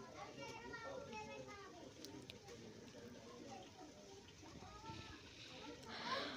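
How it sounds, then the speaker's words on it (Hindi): Children playing outdoors in the distance, faint high voices and calls mingling over low ambient background noise, fairly quiet and continuous. "तो वो दोनों बाहर खेल रहे हैं।"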